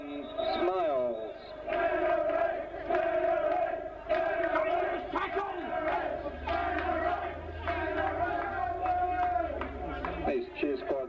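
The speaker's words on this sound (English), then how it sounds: "His cheer squad seems pretty pleased about it too." A South Australian cheer squad cheers at a championship American football game against NSW, with a steady crowd roar of shouts and chanting under continuous commentary.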